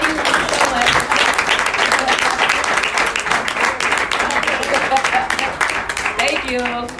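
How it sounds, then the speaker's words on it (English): A seminar audience on starting a business gives a big round of applause, dense clapping filling the room steadily while a voice speaks over it near the end. "another big round of applause for her closing us out"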